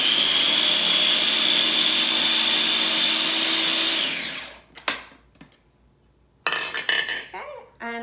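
A food processor grinds pesto ingredients in a loud, steady whir that cuts out abruptly, followed by a few clattering knocks and rattles of the bowl and lid.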